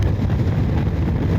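Continuous heavy wind buffeting the microphone while riding a motorcycle on a long road trip from Oradea to Krakow in cool weather, a loud low rumble with no break.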